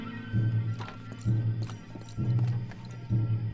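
Horses galloping in Red Dead Redemption 2, their hoofbeats arriving in repeated surges about once a second over a low rumbling bed, fairly close and loud, with no voices.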